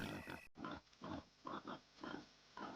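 A pig in a short film gives a run of about eight rhythmic, fairly faint grunts in quick succession, each a low snorting pulse.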